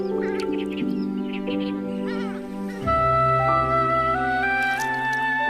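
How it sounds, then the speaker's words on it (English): Purple swamp hens calling across a marsh at Chilika, a series of nasal, honking calls with rising and stepped tones, fairly close and loud, continuing almost without pause. "the most eye-catching are the purple swamp hens"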